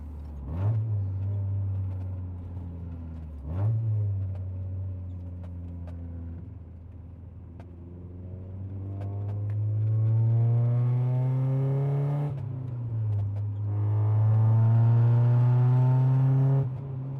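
Mazda Miata exhaust heard from inside the cabin with the windows up, a moderate droning rumble that rises and falls through several revving pulls and gear changes, steady and enclosed without voices.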